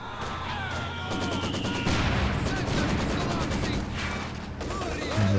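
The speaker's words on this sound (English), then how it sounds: "And the mortars are starting to fly in both directions" Mortar shells and crackling gunfire in a Company of Heroes 2 four-versus-four battle on the Port of Hamburg map: repeated loud impacts and bursts of shots, near and far, forming a dense, continuous barrage.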